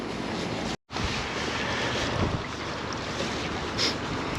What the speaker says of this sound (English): It's not too bad with the wind behind you.